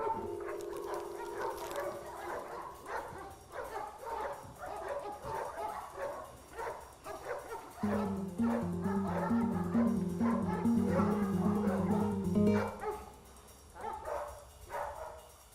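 A dog in obedience training gives repeated yips, whimpers and short barks at close range, in uneven bursts with brief pauses.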